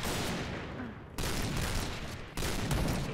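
Guns fire in the shooter video game Point Blank: dense, rapid bursts of loud gunfire crackling almost without pause, with brief breaks between volleys.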